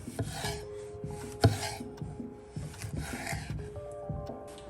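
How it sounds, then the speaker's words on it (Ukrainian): A knife slices a tomato into chunks on a board, giving repeated soft cutting and scraping strokes with small taps, close and fairly quiet, with no talk. "Нарізаємо томат, думаю, половинки нам вистачить."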